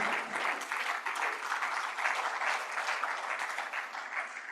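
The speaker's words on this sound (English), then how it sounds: "Can you please stand for recognition and we clap for you?" Audience at the closing session of an economic forum applauding as committee members stand for recognition, a sustained even wash of many clapping hands at moderate distance, with no one speaking over it.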